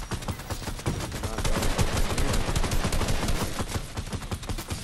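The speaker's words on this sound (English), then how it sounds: "Kid, stop shooting at me." Fortnite gunfire: dense, continuous bursts of rapid shots and automatic fire overlapping at close range, loud and relentless throughout.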